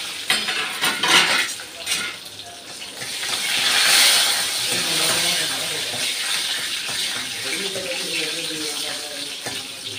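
Onions, curry leaves and four or five dried chillies frying in oil in a pan for mint chutney give a close, hissing sizzle that swells in the middle, with occasional stirring clinks and a voice talking over it.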